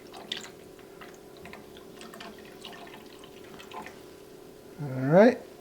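Half and half is slowly poured into a pot of New England clam chowder while it is stirred, giving soft liquid trickles and light scraping and clinking, with a voice briefly rising near the end.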